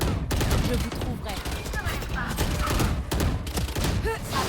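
Rapid gunfire in the Valorant video game, loud dense bursts of shots continuing through the whole stretch, with someone briefly talking underneath.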